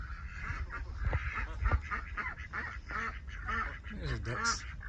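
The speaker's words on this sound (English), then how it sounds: "The ducks are talking." Backyard ducks quack in a lively run of overlapping calls, close and fairly loud, with nasal honking notes repeating throughout.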